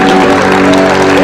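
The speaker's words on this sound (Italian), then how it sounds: "Ancora un grosso applauso a Isaac Pietrasanta." Audience applause after a live song performance, a dense steady clatter of clapping filling the whole moment, loud and close with a sustained tonal hum running underneath.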